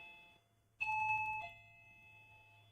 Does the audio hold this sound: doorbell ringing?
yes